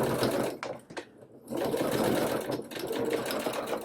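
A sewing machine stitching a seam on a doll dress runs close and steady, with a brief pause near the start before the motor picks back up.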